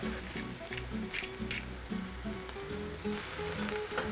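Eggplant fries in oil in a pot, giving a loud, steady close sizzle that runs without a break and thickens slightly near the end.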